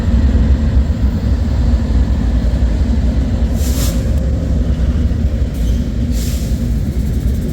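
Loaded BNSF ethanol freight train rolls southbound through Fremont, Nebraska, a loud, close, continuous roar of wheels and cars passing without pause, no voices.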